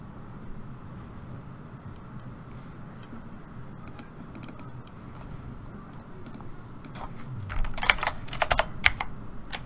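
Soft, close keyboard typing clicks come in scattered bursts from a computer keyboard, growing busier and louder toward the end over faint room hiss.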